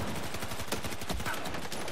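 Rapid machine gun fire in Battlefield 4 rattles continuously in a fast, even burst, loud and harsh.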